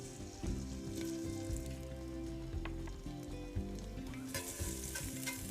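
Minced garlic frying in oil in a pan after fish, a steady soft crackling sizzle with faint scattered pops throughout.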